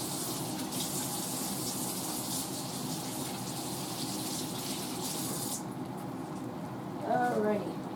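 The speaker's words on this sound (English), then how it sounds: "let me rinse my hands right quick" Tap water gushes steadily as hands are rinsed in a kitchen sink after handling fish. The flow thins after several seconds, and a voice briefly speaks near the end.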